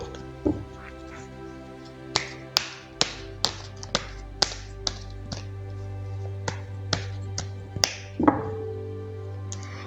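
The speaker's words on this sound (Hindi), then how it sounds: "तो चलिए पहले ज़रा कार्ड्स को शफल कर लेते हैं।" Tarot cards are shuffled by hand, giving a string of light, sharp taps and flicks at an irregular pace over a soft, steady background tone.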